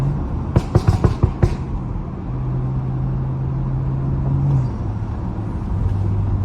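A BMW car drives along with a series of quick, sharp exhaust pops up front, then a steady engine drone that rises in pitch and drops with a gear shift, loud and close.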